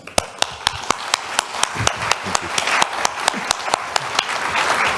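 A conference audience at a keynote forum in Brussels, the EU Asia Summit, claps steadily, with distinct sharp claps ringing out regularly above a dense, rising wash of applause.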